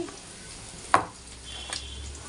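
Onion fries in a pan as it turns reddish brown, a soft steady sizzle with a single sharp clink of a utensil against the pan partway through.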